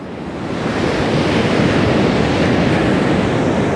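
Ocean waves wash onto a New Zealand beach at Matata at low tide, a loud, continuous broad surf roar that swells in the first second and then holds steady, mixed with wind buffeting the microphone and no voices.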